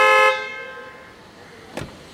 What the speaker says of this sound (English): the alarm starts buzzing